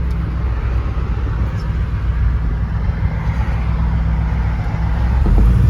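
A 1974 Chevy pickup with a factory 454 big block cruises on a Los Angeles freeway, its deep engine rumble and road roar holding steady and loud throughout, swelling slightly near the end.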